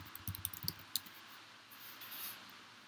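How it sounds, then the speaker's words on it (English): Quiet typing on a computer keyboard, a quick cluster of light clicks at first and then a few scattered taps over a soft room hiss, no talking. "I'm typing it into Google."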